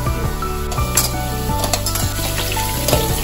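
Onion and capsicum fry in a little oil in a kadhai, giving a steady, close sizzle with scattered crackles and a few light scrapes all the way through.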